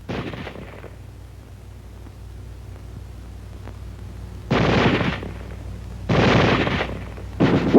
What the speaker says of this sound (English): Weapons giving automatic fire will fire continuously as long as pressure is applied to the trigger, or until the ammunition is exhausted.